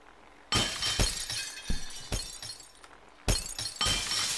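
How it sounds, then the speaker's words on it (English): Glass panes shattering in the video game Happy Wheels, several sharp crashes with tinkling debris in two bursts separated by a short lull, fairly quiet overall and with no talking. "Break your glass."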